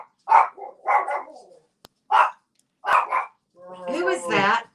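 Dogs in a house bark and yip in several separate short bursts at close range, with a higher whining yelp near the end, heard between pauses and without speech over them.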